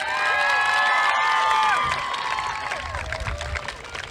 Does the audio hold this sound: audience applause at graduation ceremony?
yes